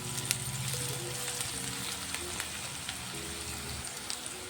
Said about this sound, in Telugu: ఇంకా ఆనియన్స్ కొంచెం ఫ్రై అవ్వాలి.